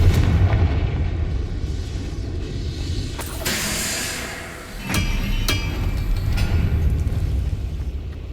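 Confringo fire spell blasts in Hogwarts Legacy go off as sharp booming explosions with hissing bursts, several loud impacts over rumbling combat noise.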